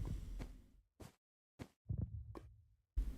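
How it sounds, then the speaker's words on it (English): The Minecraft warden's heartbeat in a modded ATM 10 survival game: a faint, low, muffled throb pulsing roughly every half second to second, with separate thuds and gaps of silence between them. "I can hear the heartbeat."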